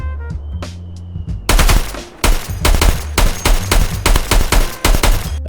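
Mounted machine gun fire in the video game Escape From Tarkov: loud, close bursts of rapid automatic shots in repeated strings, following a few quieter tones and a hum at the start.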